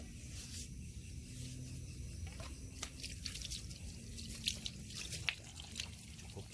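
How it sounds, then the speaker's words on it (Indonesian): Water is poured onto a freshly repotted Aglaonema in its pot, soft splashing and dripping in an irregular patter close by, fairly quiet with a few sharper drips. "tinggal kita siram langsung dengan air"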